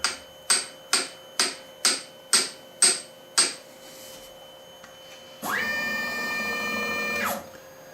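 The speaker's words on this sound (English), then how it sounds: "so I need to tap this side of the vise, so the fixed jaw goes this direction" A machine vise in a workshop is tapped seven times in a steady rhythm, each sharp metallic knock ringing briefly, followed by a pause and then a sustained mechanical whir with a whining tone.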